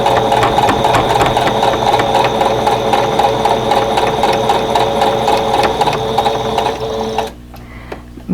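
A sewing machine stitches fabric for a quilt block with a steady, fast mechanical rattle. Loud and close, it stops abruptly near the end.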